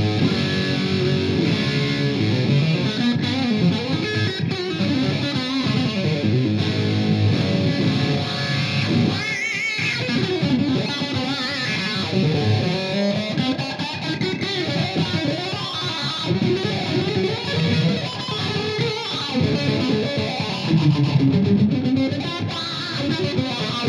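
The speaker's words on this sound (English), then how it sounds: "I can simply engage the distortion circuit and add distortion on top of that" Heavily distorted electric guitar through a Morley wah pedal with its built-in distortion engaged, sweeping vocal-like filter, plays continuously for the whole stretch, loud and dense, with no talking.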